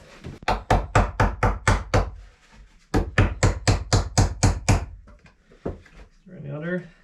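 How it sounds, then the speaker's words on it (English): Old nails are hammered into chicken coop wood with two fast runs of sharp, ringing blows, about eight strikes each, close and loud. A few scattered taps follow, and a voice speaks briefly at the end. "Better to hammer them in and screw a new one."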